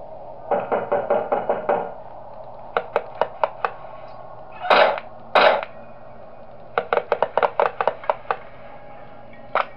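A door being banged shut in the horror game Five Nights at Wario's, set in Wario's Hotel: bursts of rapid, sharp knocking thuds, a couple of heavier scraping bangs in the middle, then more quick knocks, with no talking.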